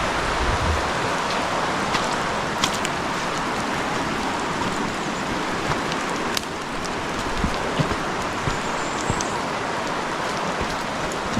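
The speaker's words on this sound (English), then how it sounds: "Still raining." Steady rain falls on a forest portage trail in Algonquin Park, a dense even patter with occasional louder drips, close and continuous with no talking.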